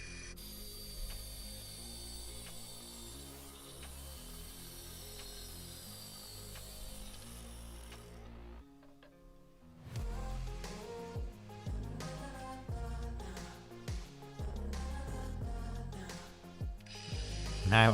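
A Ferrex 40V cordless angle grinder (model FAW 40Q) with a thin metal cutting disc cuts through steel, a loud close whine that briefly dips before resuming with rougher, harsher grinding until the end.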